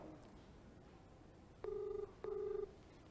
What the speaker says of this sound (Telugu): ఒకసారి ఏసీపీ నిఖిల్ ఫోన్ ఎంగేజ్ లో ఉంది, వేరే ఎవరితో మాట్లాడుతున్నాడు, వెయిటింగ్ వస్తుంది.